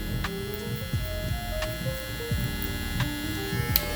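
Electric hair clippers buzz while cutting a taper fade, with a steady motorized hum that shifts slightly in pitch as the blade moves through the hair in short passes.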